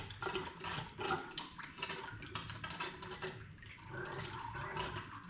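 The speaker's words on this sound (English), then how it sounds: "I'll just do that and I'll dump that oil out." Fork oil pours out of a motorcycle fork tube during a fork oil change, a close gurgling, splashing liquid flow with uneven glugs that continues steadily without pause.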